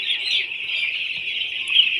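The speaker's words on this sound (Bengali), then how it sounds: "4 দিন ধরে আনা হয়েছে বাচ্চাটি মুরগির।" Four-day-old baby chicks peep continuously at close range, a dense, high chorus of overlapping chirps with one sharper peep standing out near the end.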